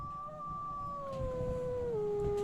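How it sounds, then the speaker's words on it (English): Pack of wolves howling outdoors in the wilderness, with two long, overlapping sustained howls that slowly fall in pitch, steady and moderately distant, with no voices. "That's a whole pack of wolves."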